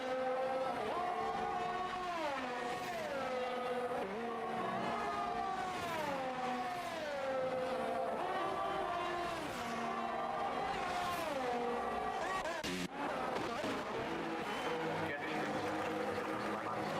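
Race cars in a racing video game, on a track round in Saudi Arabia, scream past with high rising and falling engine whines, overlapping continuously, while a commentator talks over the racing.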